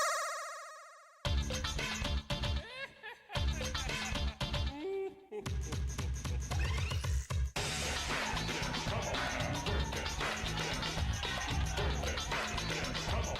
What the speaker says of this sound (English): If you were to unlock the screen on the Japanese version, the music would sound like this.